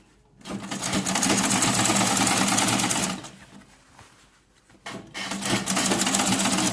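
A sewing machine runs in two bursts while stitching an inseam side pocket, a steady loud motor whir with a short quieter pause between runs.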